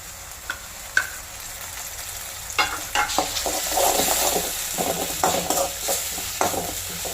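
Onion and bay leaf sauté in a pan, a continuous bright sizzle broken by repeated scraping stirs and spoon clinks, close and fairly loud.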